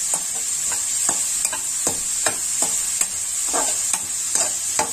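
Mushrooms being stir-fried in a pan, a steady close sizzle punctuated by a regular run of scraping spatula strokes about every half second.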